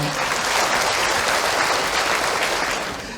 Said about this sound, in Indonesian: Baik, tepuk tangan untuk Ahilman.